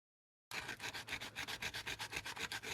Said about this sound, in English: This piece was sanded at the end so it could fit this fat boy pipe.